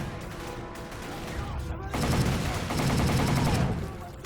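Rapid bursts of automatic gunfire in a World War II shooter video game, dense and continuous, growing louder and heavier partway through with overlapping shots and battle noise.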